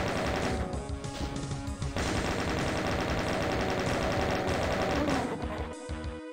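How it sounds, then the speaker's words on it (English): Rapid, steady automatic fire from the chain gun in Doom II, a dense sustained burst of close gunshots that runs almost the full length, layered with game sounds and tapering off near the end. "This chain gun is very pleasant to use."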